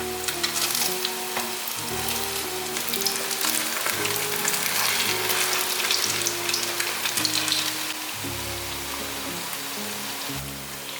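Vegan strips fry in hot oil in a pan, a continuous close crackling sizzle lasting several seconds while background music plays along.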